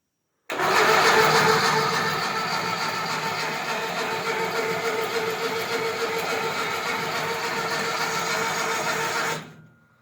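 VAZ 21011 engine on a homemade tractor cranked by the starter from the battery without firing, a steady whirring grind running for about nine seconds close up before cutting off.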